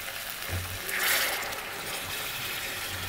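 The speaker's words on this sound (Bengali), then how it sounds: "এখন আমি পানি দিয়ে দেবো," Water is poured into a pan of frying cauliflower curry, giving a continuous hissing sizzle and splash that rises briefly in the middle and then settles into a steady bubbling.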